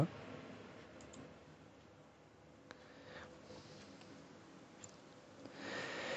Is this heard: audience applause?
no